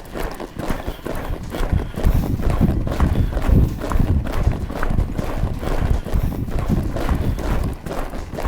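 Horse hooves clip-clopping on arena ground at a derby show, a steady, fast rhythmic thudding at close range with some wind and rustle layered underneath.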